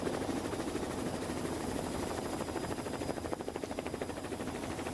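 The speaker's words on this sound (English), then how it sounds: "So the helicopter just following here, the run-in towards the finish" A helicopter hovers above a road cycling race during the run-in to the stage finish, its rotor chopping in a loud, continuous pulse with no voices over it.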